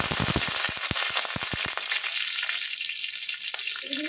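Slit green chillies hitting hot oil with nigella seeds in a pan for a white potato curry, opening with sharp crackling pops that settle into a steady, loud sizzle.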